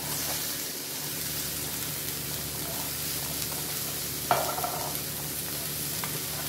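Mushroom, onion and peas frying in a pan for egg fried rice, a loud, steady sizzle with a clatter of stirring near the middle and a few lighter scrapes after.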